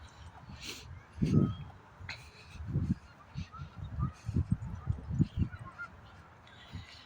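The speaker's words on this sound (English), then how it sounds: "so many ducky ducks are sitting over here" Waterfowl on the bank of the Bow River in Calgary give a series of irregular honking and quacking calls, some close and loud, others fainter, scattered over outdoor background noise.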